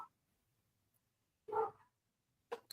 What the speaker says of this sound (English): Oh, the dogs are barking at something.